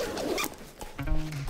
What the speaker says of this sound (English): they made it completely customizable to access any side at any time with the four zippers